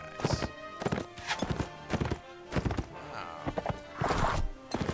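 Horse hooves galloping in the Mount & Blade: Warband battle game, a loud rapid series of sharp thudding hoofbeats in uneven clusters, close and prominent with no talk over them.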